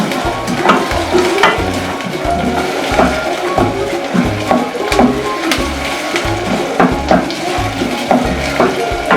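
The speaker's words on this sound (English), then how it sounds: "Just gradually add your onions." Onions and minced meat fry in a pan with a steady, close sizzle, punctuated by regular scraping and stirring strokes of a utensil throughout; no one speaks.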